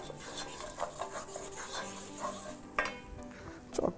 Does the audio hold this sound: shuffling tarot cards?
no